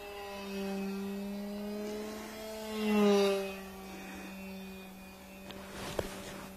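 An RC model fighter plane powered by an A2212-type electric motor at 1400 rpm per volt flies past with a steady whining drone, its pitch bending and swelling briefly as it passes close before easing back.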